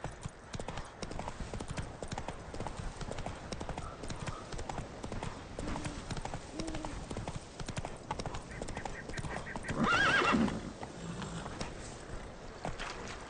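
Roach, a horse in The Witcher 3, gallops with a steady rapid clip-clop of hooves, then lets out a loud, bright whinny near the end, with game ambience underneath.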